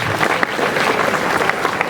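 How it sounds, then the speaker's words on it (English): A crowd claps steadily for a basketball captain at a school homecoming gathering, dense continuous applause filling the room with a faint voice or two underneath. "This boy, clap for this boy."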